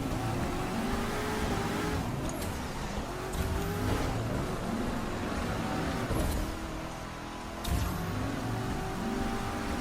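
Race cars roar continuously through a rolling start in The Crew 2 racing game, engines droning loud and close with shifting revs, brief swells and a few sharp transient bursts over steady road noise.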